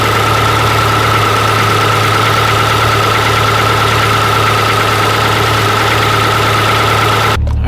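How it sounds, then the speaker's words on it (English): A 1000-horsepower Subaru car engine idling, a loud, steady, rumbling drone with a constant hum and no speech, running unchanged until it cuts off abruptly at the very end. "I've let the car idle for quite a while"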